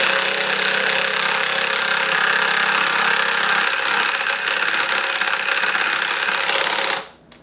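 An impact driver running wood screws into a wooden box, a loud continuous rattling hammer-buzz that holds steady for several seconds before cutting off abruptly near the end.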